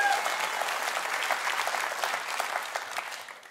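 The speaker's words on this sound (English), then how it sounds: "I said that first because I knew you'd clap." A studio audience at a live television talk show applauds in a dense, sustained burst of clapping that fades slightly at the end, with faint talk underneath.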